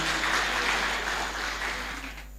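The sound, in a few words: church congregation applauding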